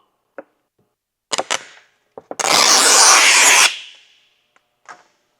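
An intake manifold port is hand sanded with a strip of 400-grit sandpaper, giving a few short scratchy strokes followed by one sustained gritty rub of just over a second, close up, with brief scrapes around it.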